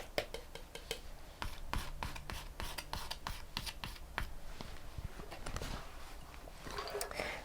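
A palette knife scrapes paint across canvas in close, steady, rasping strokes, quiet and continuous with brief sharper scratches, no talking over it.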